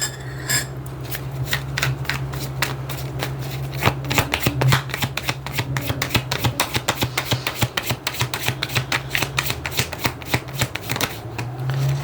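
Tarot cards are shuffled rapidly, giving a long run of crisp riffling snaps and flicks in quick succession, close and fairly loud, with no voices.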